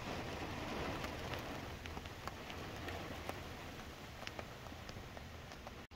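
Steady rain pours down at night outside a bedroom window, a dense even hiss with scattered sharper drop taps, continuous throughout and fairly close.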